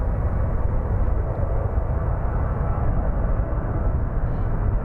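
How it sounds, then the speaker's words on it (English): A Learjet small jet roars loudly and steadily overhead at Phoenix Sky Harbor airport, a dense unbroken engine rumble filling the whole stretch with no voices. "it's a small plane, the Learjet. Sounds very loud."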